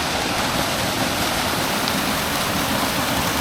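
Nant Melyn waterfall roars as a loud, steady broadband rush of falling water, close and unbroken with no other sounds.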